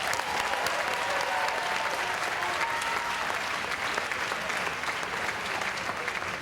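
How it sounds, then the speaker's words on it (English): An audience gives sustained, even applause for graduates at a university commencement ceremony, a dense wash of clapping filling the hall without a break. "So I'd like to have one more round of applause for our graduates."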